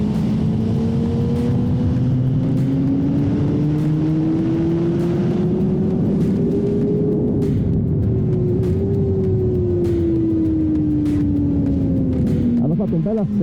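Honda CBR600RR 2024 motorcycle on a wet track, its engine droning loud and close, pitch climbing steadily, easing back, then rising again, with a constant roar of wind and road noise.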